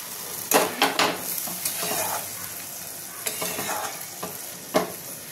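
Crab kosha masala sizzling in a home kitchen pan as a little water is added to the fried spices, with a steady frying hiss broken by several sharp stirring scrapes and clanks, close and fairly loud.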